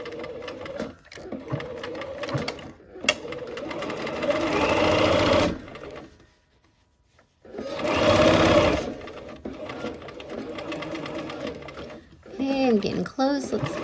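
A sewing machine pieces a quilt block in several bursts of fast, steady stitching, stopping and starting with a pause in between, while someone talks over it.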